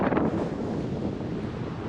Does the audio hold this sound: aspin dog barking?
no